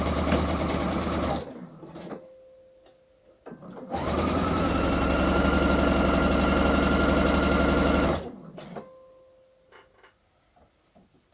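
A sewing machine stitches the shoulder seam of a blouse in two steady, loud, close runs of rapid mechanical whirring, separated and followed by quiet pauses with small handling clicks.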